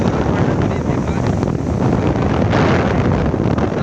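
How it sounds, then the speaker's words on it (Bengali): Loud wind buffets the microphone on a seashore near moored boats during a full-moon rough sea, a dense continuous roar with waves blended into the gusts. "সমুদ্রের পাশে এসেছি"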